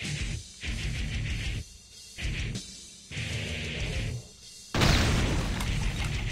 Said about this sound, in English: I love how that shotgun pushes you back when you blast it